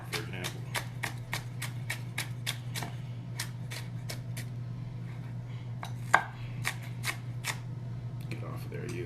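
Vegetables being chopped on a board, a fast run of sharp knife taps in bursts with short pauses, over a steady low hum, with talking mixed in.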